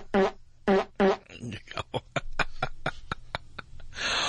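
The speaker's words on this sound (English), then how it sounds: "Oh, a stuttering fart." A comedic stuttering fart sound effect played on a talk-radio call-in show: a few blunt bursts, then a rapid run of short, evenly spaced sputters ending in a longer rasp.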